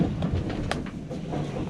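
West Coast Wilderness Railway train between Strahan and Queenstown, Tasmania, rumbling on the rails with a low steady roar and rattling, clanking clatter close by, no voices.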